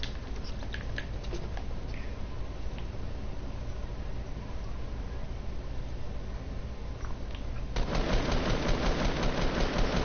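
Rapid gunfire in a Fortnite match, a steady rattling stream of shots that swells louder and denser toward the end, with no talk over it.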